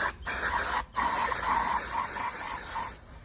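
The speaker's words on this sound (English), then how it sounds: "Spray down the valve stems." Aerosol spray hissing onto engine valve stems, a close steady burst broken by two brief pauses, then continuing before stopping near the end.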